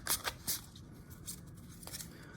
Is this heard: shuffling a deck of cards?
yes